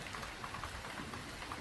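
Heavy rain pours down during a thunderstorm in the Saint-Henri sector of Montreal, Canada, a dense steady hiss of drops pattering on surfaces, close and unbroken, with no voices.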